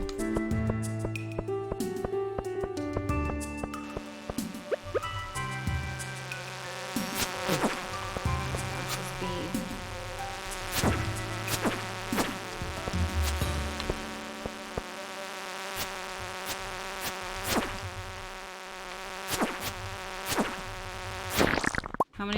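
A bee buzzes in the video game Stardew Valley, a thin insect drone running over a busy bed of game music and sound effects for about twenty seconds.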